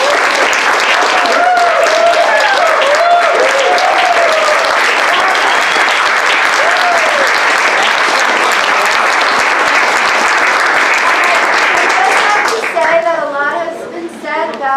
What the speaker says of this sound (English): if everybody would just give Maria another round of applause